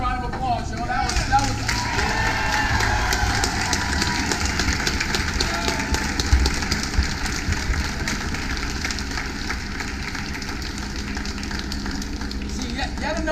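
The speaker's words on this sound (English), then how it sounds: "Give her another round of applause" Crowd at a Black Lives Matter street march clapping and cheering, a steady rough wash of applause outdoors with voices mixed through it.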